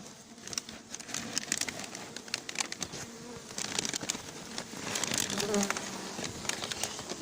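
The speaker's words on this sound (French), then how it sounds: "L'essaim est dans un carton qui est dans un sac." A honeybee swarm held in a cardboard box inside a bag buzzes continuously at a farm hive, with rustling and handling noises over the steady drone.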